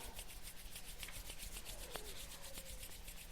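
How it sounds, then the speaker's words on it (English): Hands rub briskly together in a steady, continuous swish at close range, with no talking, as a prelude to palming during a hormone yoga nidra relaxation session. "so you can take your hands and rub them, rub."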